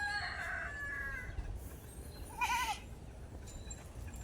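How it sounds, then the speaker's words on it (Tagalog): A male goat bleats faintly out in a rural barangay, a couple of short wavering calls rising above steady outdoor background noise, with another animal call heard at a distance. "Lalaki ng kambing ah."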